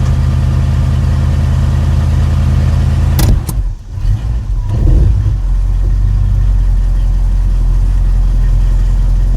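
A 1989 Chevrolet S10 pickup with a V8 engine idles steadily and close, a loud low rumble that is briefly interrupted by a short burst of noise partway through before the even idle carries on.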